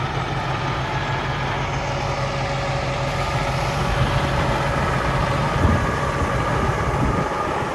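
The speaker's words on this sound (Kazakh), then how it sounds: "Kenworth келди. Kenworth 880 экен." A Kenworth 880 truck's engine idles in a steady, close, low diesel rumble that holds evenly throughout, with no voices.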